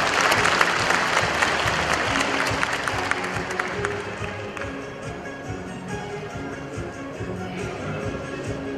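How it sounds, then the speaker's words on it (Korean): Guests at a commemorative ceremony for the 800th birth anniversary of Chungnyeolgong Kim Bang-gyeong give a welcoming round of applause, full and steady at first, then gradually softening as it carries on. "여러분 환영의 박수 부탁드리겠습니다."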